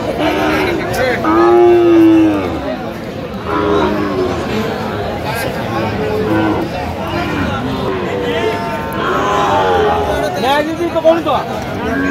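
Several long moos from a Shahiwal bull calf at a crowded Cox's Bazar cattle market ring out loud and near, spaced across the stretch, amid steady crowd chatter and people talking.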